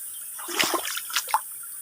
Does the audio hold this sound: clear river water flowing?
yes